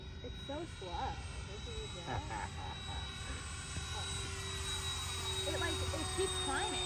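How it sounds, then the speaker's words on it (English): A model jet aircraft flies overhead with a steady, continuous engine whine and hum that holds for the whole stretch, while people talk nearby over it. "You're flying a jet."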